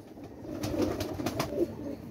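Pakistani pigeons coo softly in a loft, a low murmuring mix of several birds that stays steady and fairly close throughout, with no talk over it.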